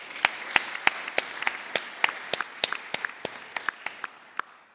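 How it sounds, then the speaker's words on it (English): Audience members at a panel discussion give a round of applause, heard as a sparse, fairly close run of distinct individual claps in a loose, uneven rhythm rather than a dense ovation. "can we please have a round of applause for everyone"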